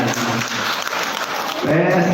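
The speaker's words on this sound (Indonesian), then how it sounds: "tepuk tangan untuk Bapak dan Ibu semuanya" Seminar audience at a parenting event for a kindergarten gives a short burst of dense applause that fills the room, with a voice starting to speak near the end.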